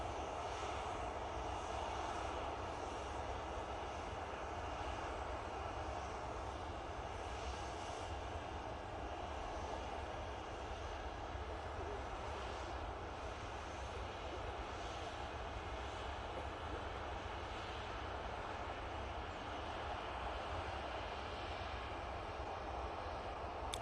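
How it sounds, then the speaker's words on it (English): A Finnair Embraer E190 airliner arrives at Manchester Airport, its jet engines producing a steady, broad roar that holds at the same level throughout, with no talking. "That's One World E190 coming in for Finnair now from Helsinki."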